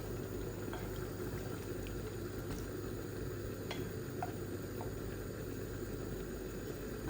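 Chicken bhuna curry simmers in a pan after a little water is added, giving a low, continuous bubbling rumble with faint occasional ticks and pops, steady and unbroken.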